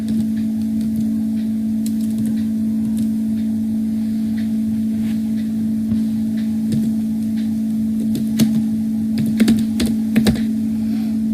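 A name is typed on a computer keyboard in scattered bursts of crisp key clicks, louder and denser toward the end, over a constant low electrical hum.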